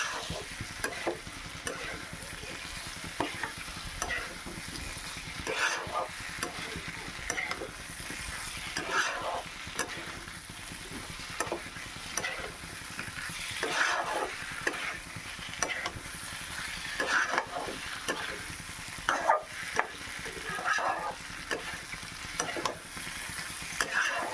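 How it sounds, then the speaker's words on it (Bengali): Papaya and potato being stirred with mung dal and spices in a hot pan, a steady sizzle with repeated scraping strokes of a spoon throughout, close and fairly loud with no talking. "দিয়ে দেবো ভেজে রাখা পেঁপে আর আলুটা দিয়ে মুগ ডালের সাথে কিন্তু খুব ভালোভাবে একবার কষাতে হবে নাড়াচাড়া করে"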